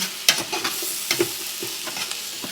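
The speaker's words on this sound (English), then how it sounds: "then we're gonna toss in these chopped peppers" Chopped peppers tossed into a pan of sizzling onions for classic chili give a steady close fry hiss, broken by a few sharp scraping stirs and clatters of a utensil against the pan.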